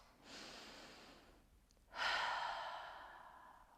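During a seated yoga pose, two long breaths are heard close and soft. A slow airy exhale fades, a brief pause follows, and a second, stronger breath rises sharply and tapers away.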